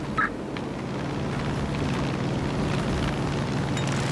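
Steady droning rotor and engine noise from helicopters in the video game Far Cry 5, a continuous low hum holding at even level throughout with no talk.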